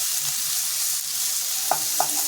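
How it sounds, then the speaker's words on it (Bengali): Spices sizzle and fry in oil in a pan, stirred in a Bengali home kitchen. Steady close frying hiss runs throughout, with a couple of soft scrapes of the stirring spoon near the end and no talk. "মশলাটাকে এরকম করে একটু নাড়তে হবে।"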